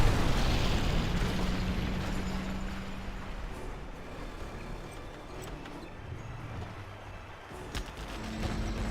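Artillery fire and explosions in a 1v1 pro strategy game match: rolling, rumbling booms and bursts layered almost continuously at moderate loudness, with no talking.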